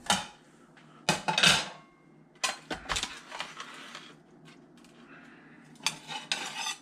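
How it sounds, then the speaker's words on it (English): Metal spatula scraping and clinking against a pan and plate while lifting a cooked walleye fillet, several sharp bursts of scraping and clatter separated by quiet pauses, close and clear. "I'm going to get a spatula. I'm going to put that thing on a plate"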